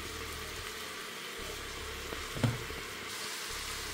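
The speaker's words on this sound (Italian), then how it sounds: "Aggiungiamo la carne all'interno della pentola a pressione." Meat chunks frying in an oil-filled pressure cooker pot give a steady, close sizzle throughout, with a brief louder stir or clatter partway through.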